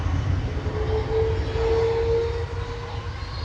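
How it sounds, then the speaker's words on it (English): Airbus A330-200 at Manchester Airport spooling up its jet engines while lining up behind a departing 737, a steady broad engine roar with a thin whining tone that swells and fades over a couple of seconds. "A330-200 spooling up in the background"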